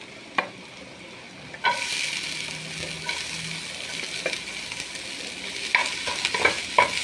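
Ginger and then onion hitting hot oil in a pan for crab tom yum, a steady close sizzle after a sharp onset, with occasional clinks and scrapes of stirring and no voices.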